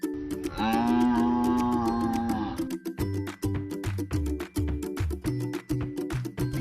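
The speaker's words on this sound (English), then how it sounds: "Buffalo." A buffalo gives one long, loud, low moo lasting about two seconds, followed by a rhythmic children's music track.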